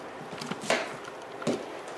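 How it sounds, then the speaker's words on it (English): A knife chops butternut squash and gala apples on a board in a kitchen with no electricity, giving two or three soft, sparse wooden cuts against quiet room tone. "We're cutting up a butternut squash, and we're also cutting up some gala apples."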